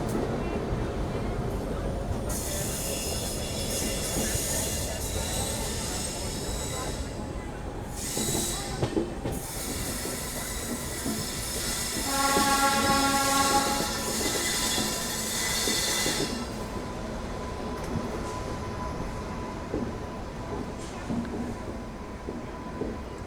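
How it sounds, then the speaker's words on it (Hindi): The Mumbai–Indore Duronto Express, hauled by a WDG3 diesel locomotive, rumbles past a general coach at night with a loud, steady roar, rhythmic wheel clatter and a brief squeal of wheels partway through. "तो ये है मुंबई इंदौर दुरंतो एक्सप्रेस।"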